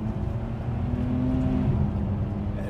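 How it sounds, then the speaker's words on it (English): Ferrari 599 with its big engine revving as it drives, a steady loud growl that rises slightly and holds, heard from inside or near the car. "such a big engine, it spins and spins and spins. And it does this."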